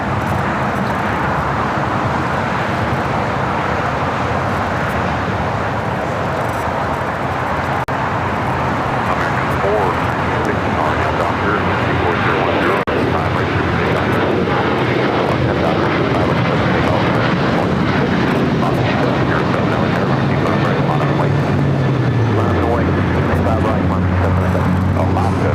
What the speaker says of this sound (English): Next takeoff here on the south side is Alaska Airlines Flight 6 heading to Reagan National, and it's